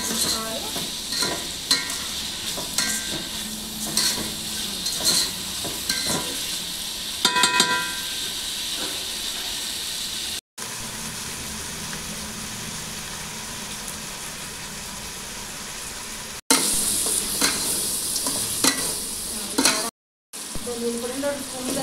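Ginger garlic paste sautéing in a pan sends up a continuous close sizzle with stirring scrapes, briefly cut by a few short dropouts.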